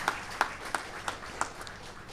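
Applause from the audience at a 96th jayanthi jubilee celebration, a steady run of claps with a few sharper hits repeating at regular intervals, moderately loud in a large gathering.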